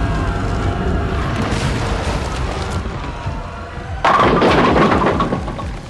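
Explosions and collapsing masonry as the Vatican is destroyed in the disaster film 2012: a loud, continuous roaring rumble that surges into an even heavier crashing burst partway through.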